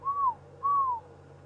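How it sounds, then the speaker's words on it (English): Pearl-spotted owlets whistling far off on an evening safari drive, two rising-then-falling whistled notes in steady succession, faint against a low background hum. "Can you hear a few pearl-spotted owlets whistling in the distance?"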